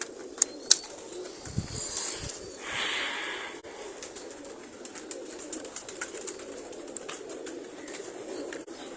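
Pigeons coo in a soft, low, continuous murmur, with a few sharp clicks and a brief flutter-like rustle early on, heard close by with no talk.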